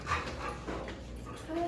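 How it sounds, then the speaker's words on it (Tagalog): An angry dog at a Moalboal hotel sounds off faintly in the background, a low whimpering, grumbling presence rather than clear, loud barks. "nagalit yung aso."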